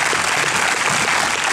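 Cinema audience at a film premiere breaking into applause, a loud, close, continuous burst of many hands clapping together for a moment, with no speech over it.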